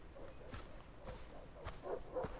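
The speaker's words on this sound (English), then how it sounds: "I can hear dogs in a cage, actually." Dogs barking and yipping inside a cage in the Far Cry 3 video game, heard as faint, distant, intermittent barks over a low background rumble.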